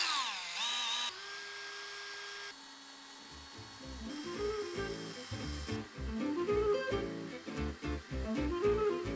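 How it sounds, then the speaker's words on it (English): A power drill boring through steel and into concrete on a house build, with alternating whining runs and stops, then rapid rhythmic chattering bursts, close and loud without talk. "We're gonna have to drill through the steel and then fasten them into the concrete."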